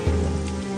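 Rain falls steadily as a dense, even patter with no pauses, with no voices over it.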